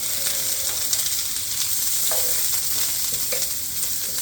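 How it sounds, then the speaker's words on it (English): Pork chops sizzle steadily in a hot pan, a constant crackling hiss up close with a few faint clicks mixed in. "Sizzling up there nicely."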